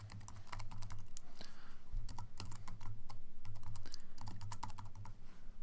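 Steady, rapid typing on a computer keyboard as a map title is entered, a continuous run of close, crisp key clicks over a low background hum with no talking.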